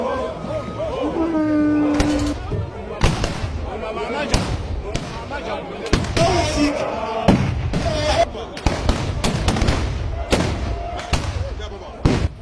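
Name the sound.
ceremonial rifle shots fired by the royal army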